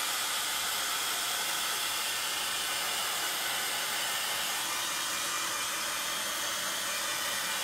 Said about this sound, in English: And I'm going to grab my heat tool